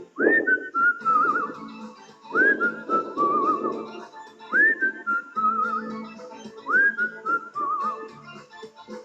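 A person whistles a melodic tune in four repeated phrases, each opening with a rising note and then wavering. The whistling is clear and close, with a soft instrumental backing underneath and no talking.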